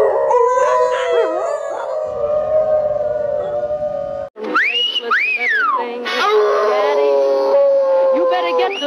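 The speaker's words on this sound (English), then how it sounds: "You're gonna start a howl." Cartoon wolves howl in long rising and falling wails, several voices overlapping loudly, with a brief break midway before sharper, higher howls and yips take over amid other cartoon sounds.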